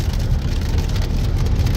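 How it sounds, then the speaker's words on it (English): Steady, loud rain pattering on a surface, a dense continuous hiss with no speech over it. "in this instance, that's rain"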